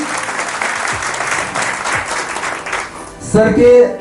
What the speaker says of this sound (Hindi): एक बार जोरदार तालियां सर के लिए हो जाए